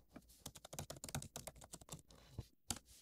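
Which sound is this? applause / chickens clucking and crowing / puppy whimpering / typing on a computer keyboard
typing on a computer keyboard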